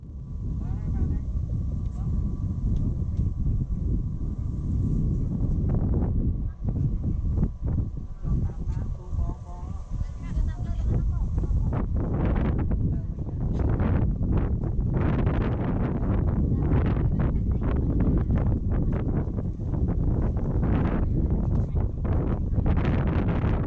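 Strong wind buffets the microphone at a cliff edge near the Thai flagpole base on the summit of Khao Phra Wihan, a constant loud rushing roar with gusty flutter throughout.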